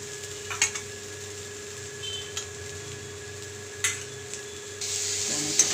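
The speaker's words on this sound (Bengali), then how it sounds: "টমেটো কুচিয়ে আমি দিয়ে দিলাম, সেটাও এর সঙ্গে ভেজে নেব।" Chopped tomato fries with onion in a pan, making a soft, even sizzle broken by occasional spoon scrapes and clinks, growing a little louder near the end, with no talking.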